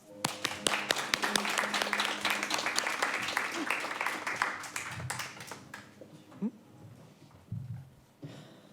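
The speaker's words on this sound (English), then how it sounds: "Please, a round of applause." A live audience at a Friday night creative showcase applauds loudly with dense clapping that thins out into scattered claps and brief voices.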